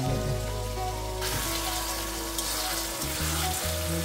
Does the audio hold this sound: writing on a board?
no